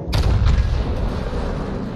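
A heavy naval gun salvo booms in the World of Warships battle game, with a sharp onset and a long, deep rumbling tail that fills the two seconds, loud and close.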